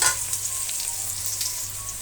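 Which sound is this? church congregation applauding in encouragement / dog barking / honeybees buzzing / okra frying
okra frying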